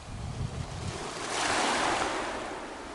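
Waves washing in a clear, calm bay off Spinalonga on Crete, a steady broadband surf wash with wind across the microphone, swelling louder mid-clip then easing, with no voices.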